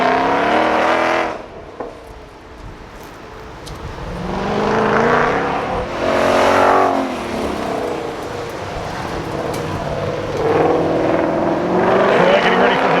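A 2020 Ford GT500 races around the track at Carlisle Ford Nationals, its loud engine surging and fading in repeated passes with rising revs, close and dominant, while an announcer talks throughout.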